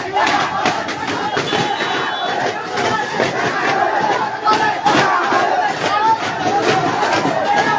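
Dhaka College students chant slogans as a dense, loud crowd during a clash with Ideal College, many voices shouting together in a steady, rhythmic roar with thuds mixed in.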